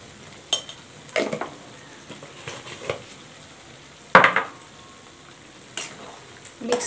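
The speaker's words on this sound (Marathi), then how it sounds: "मिक्स करून घ्यायचे छानपैकी कारले" Stuffed bitter gourds being turned through salted masala in a pan, with a handful of separate scraping stirs and clacks against the pan over a soft sizzle, close and fairly clear, no voices.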